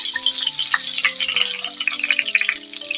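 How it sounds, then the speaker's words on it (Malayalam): Two tomatoes cut in halves sautéing in hot oil in a pan, a continuous bright sizzle with small popping crackles throughout, close and fairly loud, no voices. "എണ്ണയിൽ തന്നെ 2 തക്കാളി രണ്ടായിട്ട് കട്ട് ചെയ്തും കൂടി ഇട്ട് കൊടുക്കാം"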